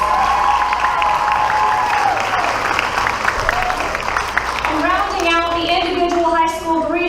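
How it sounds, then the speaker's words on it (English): Audience at a school board meeting applauding high school award winners from Benton High School, sustained clapping with some crowd voices and a speaker talking over it near the end. "Let's give them a big round of applause."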